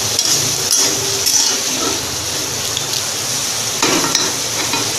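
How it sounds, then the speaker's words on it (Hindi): Onions frying in a pan for chole masala, a loud, steady sizzle up close with a few sharper crackles and stirring scrapes. "इस प्याज को आपको जब तक इसका कलर गोल्डन ब्राउन नहीं होता तब तक आपको पका लेना है।"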